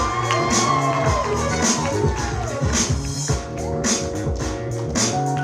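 Wedding guests cheering and clapping for a member of the bridal party, a loud crowd of whoops and shouts over a backdrop of music, with voices mixed in throughout.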